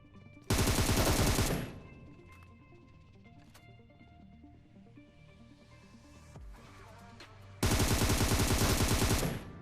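Bursts of automatic gunfire in PUBG Mobile, loud and rapid, firing for about a second at the start and again near the end, with quieter game ambience between.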